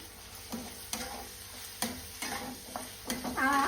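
Scraping stirs of a spatula through onions and turmeric in a sizzling pan, a steady fry hiss with repeated clanks of utensil against metal.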